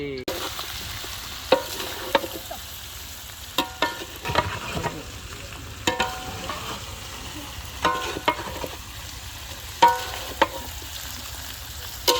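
Oil sizzles in a pan at the start of a chicken biryani, a low steady crackle broken by sharp, irregular clinks and scrapes of a utensil against the pan.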